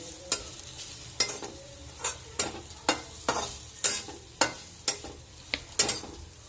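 Ground peanut and coconut powder frying in oil for a rustic ridge gourd sabzi, stirred in about a dozen steady, evenly spaced scraping strokes over a soft background sizzle, close up with no voices.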